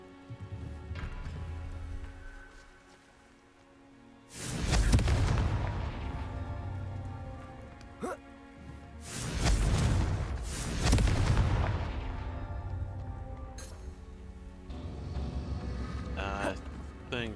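Blasting spell effects from the Hogwarts Legacy video game, two loud booming bursts a few seconds apart over a soft ambient game background, with faint other effects in between.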